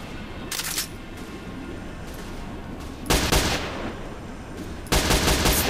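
Gunfire in a game set in the Zone, three separate bursts of rapid shots, each sharp and crackling, over a steady low ambient hum.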